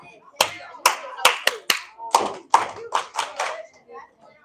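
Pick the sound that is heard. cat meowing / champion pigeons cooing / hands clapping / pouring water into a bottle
hands clapping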